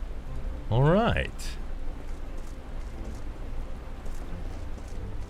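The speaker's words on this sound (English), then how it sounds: "It's raining here." Rain falls in New Gridania in the Final Fantasy XIV online game as a steady, soft hiss throughout, with a brief rising tonal sound effect near the start.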